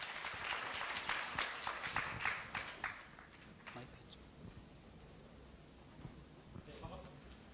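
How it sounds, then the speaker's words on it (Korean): A seminar audience of teachers claps to welcome a panel speaker, a short, fairly quiet burst of clapping that thins out after about three seconds, with a few scattered claps and soft talk afterward. "박수 부탁드리겠습니다"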